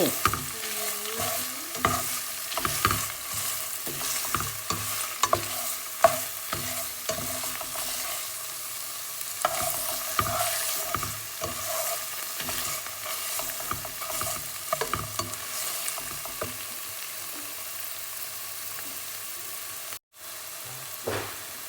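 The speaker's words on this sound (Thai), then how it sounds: "อันนี้จะเอาไว้ผัดเครื่องแกงนะคะ มันจะได้หอม ๆ ผัดเครื่องแกงนะคะ" Thai green curry paste stir-fried in a pan over low heat, a continuous soft sizzle broken by repeated scraping strokes of a utensil, close and steady, ending in a brief pause.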